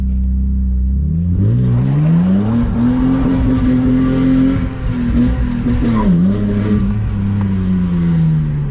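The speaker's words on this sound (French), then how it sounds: "je suis très très doux dans l'accélération de ces voitures là" A BMW E30 cabriolet with an M50B25 engine accelerates gently, a steady loud engine drone rising in pitch, dipping briefly and climbing again, with no talking.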